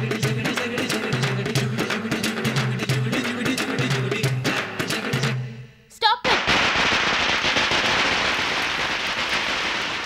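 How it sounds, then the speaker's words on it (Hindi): Rapid crackling bursts of firecrackers popping in quick succession, then a louder bang followed by dense, continuous crackle, with no talking. "ये पटाखे की आवाज कैसी है?"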